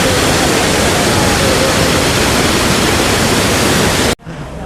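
Water crashes down a waterfall in Coorg as a dense, constant roar, then cuts off abruptly near the end, leaving a much quieter background.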